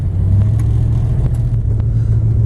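A Plymouth Duster's 318 V8, fitted with a PTC 9.5 torque converter and Doug headers, gives a close, steady, deep rumble as it revs, with the transmission slipping slightly.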